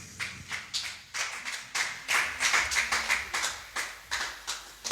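A church congregation applauding during a service, steady rhythmic clapping in regular bursts that swell and repeat, moderately distant and reverberant with no talk over it.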